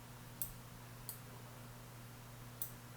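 Three faint, sharp computer mouse clicks land at uneven intervals over a low electrical hum, made while drawing curve points in Maya's soft selection tool.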